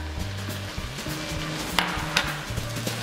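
Yaki udon is stir-fried in a pan, with a steady sizzle and a few sharp clinks of a utensil against the pan, over a soft tonal backdrop.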